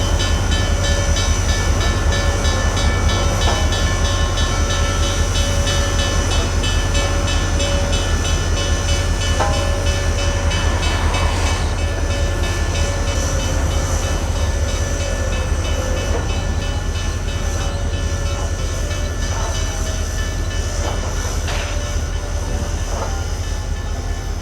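A heavy train pulled by a steam locomotive, Nickel Plate Road no. 765, rumbles steadily nearby, a constant low drone with faint metallic clanks and squeals as it moves along.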